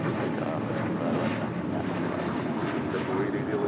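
An American Airlines jet rolls down runway 25 right at LAX for takeoff, a broad, even engine roar held steady throughout, moderately distant and fairly quiet with no voices on top.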